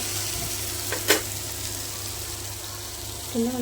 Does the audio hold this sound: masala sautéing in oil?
yes